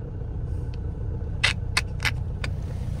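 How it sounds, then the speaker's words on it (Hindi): Heavy road traffic stuck in a jam rumbles low and steady, broken by several sharp, loud bursts spaced about a half second apart. "ट्रैफिक किसकी वजह से जाम है यार"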